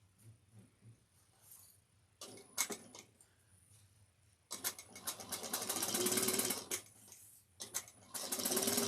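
A sewing machine bastes a pocket onto a slouch shoulder bag with a 1/8-inch seam allowance. It runs in short stop-start bursts, then in longer, louder runs, close and with no talk.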